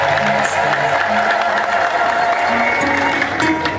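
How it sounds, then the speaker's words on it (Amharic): A church congregation ululates and claps together in worship, making a loud, dense and unbroken wash of trilling voices and hand claps that holds steady from start to finish. "እልል እያለን እያጨበጨብን እንዘምራለን"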